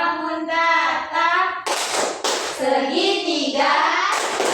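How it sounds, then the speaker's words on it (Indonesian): Fifth-grade pupils in a mathematics class chant in unison, broken by sharp group claps between phrases, a lively rhythmic alternation of voices and clapping in a classroom. "kita tepuk bangun data dulu ya"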